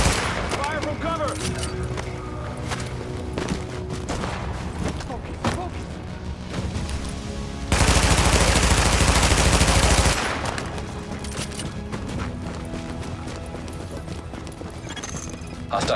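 Gunfire from cover in the game The Division, rapid clattering shots in quick bursts, with a sustained loud barrage in the middle, mixed with voices.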